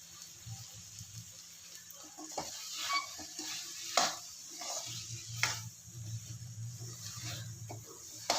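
Onion and potato masala for masala dosa stirred in a pan, a steady close scraping and gentle sizzle that swells and eases with each pass of the spoon, with no voices.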